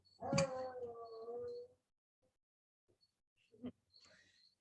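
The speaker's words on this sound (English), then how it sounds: "Hound dog is going to count our reps with his howls." A hound dog lets out one long, wavering howl that trails off, then a few faint whimpers and short yips after a quiet gap, heard clearly in an otherwise quiet room.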